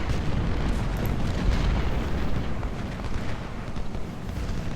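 Cannon fire in the Civil War battle game Ultimate General: Civil War, a continuous rumbling barrage of booms and distant artillery blasts blending into one heavy, roaring wash of battle noise.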